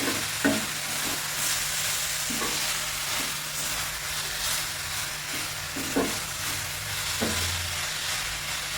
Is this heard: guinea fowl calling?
no